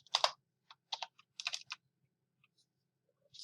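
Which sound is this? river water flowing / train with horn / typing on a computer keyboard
typing on a computer keyboard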